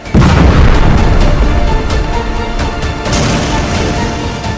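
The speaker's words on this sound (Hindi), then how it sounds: "जरा लेबनान की राजधानी बेरूत में हुए एक के बाद एक धमाकों का असर देखिए" Israeli airstrikes in Beirut's Dahiyeh district set off a loud, close boom that becomes a sustained roaring rumble, with a second surge of blast noise partway through and no voices.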